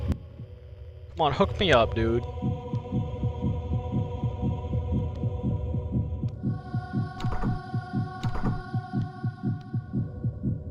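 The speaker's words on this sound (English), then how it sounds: "Hearing the heartbeat constantly can get a little repetitive." A steady, looping heartbeat thumps throughout the horror game Dementium: The Ward, a regular low double-pulse over a droning hum, with a voice talking briefly over it near the start.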